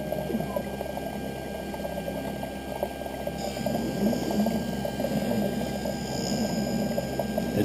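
An optical lens edging machine grinds a flat lens surface before grooving, giving a steady whirring, watery churn with a constant mechanical hum and a higher whine coming in partway through.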